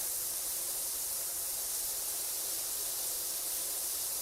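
A pressure washer sprays in PowerWash Simulator 2 with a soft, constant, airy hiss that stays faint and unbroken for several seconds, with no voices over it.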